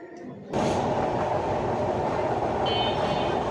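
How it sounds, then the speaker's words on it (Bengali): Train pulling out of Kamalapur railway station bound for Mawa, starting abruptly after a quiet moment into a loud, steady rumble and clatter of wheels heard from inside the carriage, with a faint high whine joining later. "ট্রেনটি ছেড়ে দিয়েছে"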